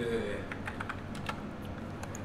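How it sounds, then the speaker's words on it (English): Quick, light keystrokes patter on a computer keyboard in short uneven bursts, soft and close, over faint room noise. "Why is this not typing now?"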